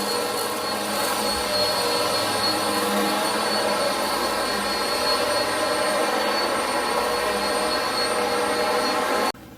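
Dyson Ball Animal upright vacuum cleaner running steadily at full power, a loud continuous whining roar with a high motor tone that cuts off abruptly at the very end.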